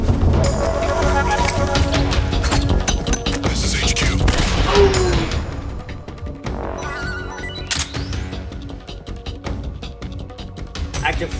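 A flashbang grenade detonates in Metal Gear Solid 3: Snake Eater amid dense, loud gameplay noise. It is followed by a thin, steady high ringing tone that persists to the end.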